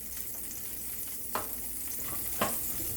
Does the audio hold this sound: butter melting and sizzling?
yes